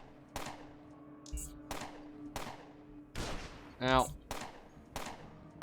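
Sentry turret gunfire in the game UnderRail, arriving as sharp separate bursts about once a second, with a brief pained cry from a voice partway through.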